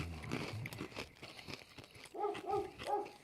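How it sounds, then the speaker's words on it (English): A dog named Red barks faintly in the background, giving a few short, quick barks near the end after some soft rustling and crinkling noises. "If you hear the dog, that's Red."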